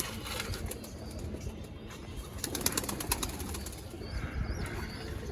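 Pet pigeons in a loft give soft, low cooing over a rustling background, with a brief flutter of wings partway through.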